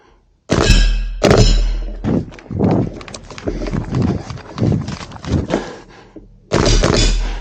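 Shots from an airsoft gun at a tournament shooting stage strike targets, giving loud, sharp impacts that start abruptly with a few heavy hits, continue in a clattering run of knocks, and finish with another burst near the end.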